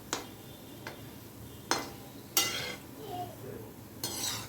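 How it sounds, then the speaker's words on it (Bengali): Palm fritters (taler bora) frying in a wok and being turned: faint oil bubbling under a handful of sharp spatula clinks and scrapes against the metal, fairly quiet and close. "এরকমভাবে নেড়ে নেড়ে লাল লাল করে ভেজে নেব"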